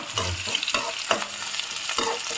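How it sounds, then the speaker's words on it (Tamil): Carrot, beans and peas sauté in a hot pan, giving a close, continuous sizzle with the occasional clink and scrape of a stirring spoon. "இது கொஞ்சம் வதக்கிடுறேன்."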